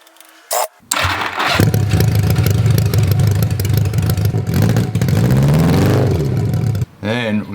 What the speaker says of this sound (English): here's the straight pipe sound on the bobber